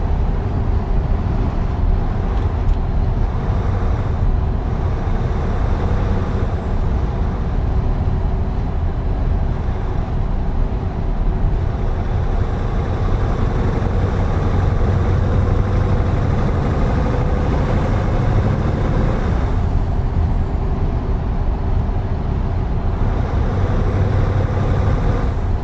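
Scania 650 truck from the Euro Truck Simulator 2 game idles and drives with a deep, continuous engine rumble, broken by several sharp hissing air-brake releases spread throughout.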